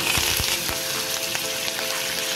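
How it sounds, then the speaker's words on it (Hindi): Whole spices, cloves, cumin and garam masala, fry in hot oil in a pan while a prawn and potato curry is started, giving a steady close sizzle with a few soft stirring scrapes. "हमने गरम मसाला फ्राई कर लिया"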